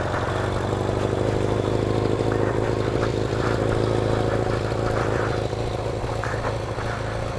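A motorcycle ridden off-road by a first-time rider runs steadily close to the microphone, a continuous mid-pitched engine drone with some clatter, no talking heard.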